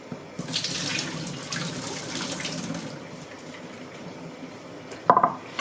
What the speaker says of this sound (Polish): I zalewamy oczywiście zimną wodą.